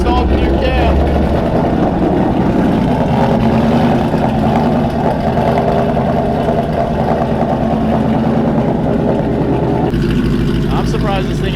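A Ford Gen 3 Coyote V8 fitted with a Whipple supercharger and a new cam idles loudly and close with a lumpy, uneven rumble while running lean, as people talk over it.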